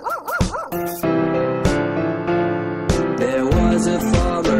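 Within a bright children's song about a farmer's dog, a series of cartoonish dog barks and yips sounds loud and close over the steady music.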